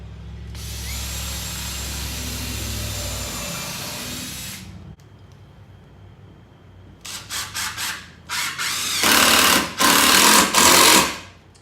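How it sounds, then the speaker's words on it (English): A power drill bores a pilot hole in salvaged wood with a sustained whirring run that stops, then gives several short bursts that get louder toward the end. "So go ahead and put one more pilot hole."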